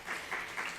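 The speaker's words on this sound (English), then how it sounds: "So please give them a round of applause." Audience applause at a community medical talk, a steady, dense wash of clapping from a seated crowd, continuous and moderately loud with no speech over it.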